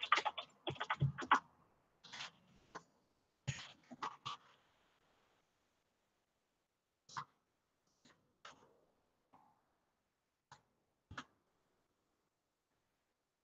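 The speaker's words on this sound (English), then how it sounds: "I'm just typing this in." Sparse taps on a computer keyboard, a quick burst of keystrokes at the start, then isolated clicks spaced out over several seconds in a quiet room.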